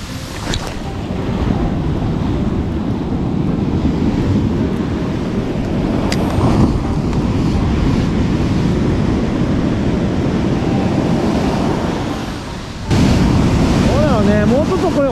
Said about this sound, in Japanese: 急に波出てきたもんね